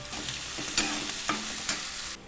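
Onions sizzle steadily in a hot pan, with a few soft scraping stirs breaking through the frying hiss.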